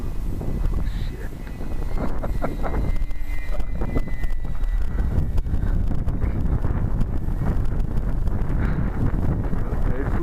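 Strong 25 mph wind roars across the microphone during an RC Big Stik 40 plane flight, a loud, continuous rumbling buffet that swells after the first couple of seconds and never lets up.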